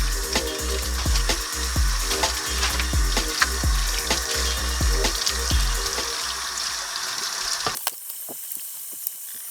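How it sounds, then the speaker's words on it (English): Tap water runs loudly and steadily into a sink while aquarium canister filter parts are rinsed under it, with repeated knocks and clunks of plastic parts. The flow stops abruptly near the end, leaving faint drips. "We're going to turn some water on. We're going to rinse all of this stuff off."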